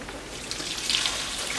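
Liquid poured slowly while making a lard pie crust, a soft, thin trickle heard close up for a moment with no talking.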